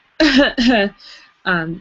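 A voice imitates sobbing with three short, harsh, breathy bursts that come out sounding more like coughs, close to the mic.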